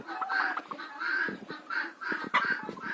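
Laying hens in a household farmyard cluck continuously in short, repeated phrases, close and fairly loud, with no talking.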